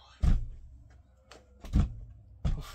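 Doors being locked at a model-train hobby shop: three dull, heavy thunks spaced about a second apart, each fading quickly into near silence.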